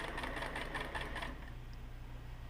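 A sewing machine runs a second row of stitching along a stuff sack seam, a steady mechanical whir with fast rhythmic ticking for about a second and a half before dropping to a low hum.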